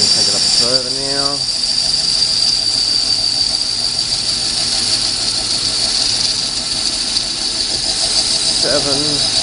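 A metal lathe running at about 400 rpm during a parting cut gives a steady, piercing high whine throughout, with machine rumble underneath and someone speaking briefly at the start and end.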